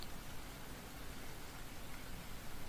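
Light rain patters on window panes as a soft, even, continuous hiss, quiet and unbroken, with no voices.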